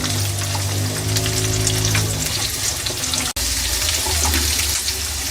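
Ingredients for sheer khurma frying in a pan, a continuous hiss and crackle of hot fat with a low hum beneath, steady and close, broken by one brief cut.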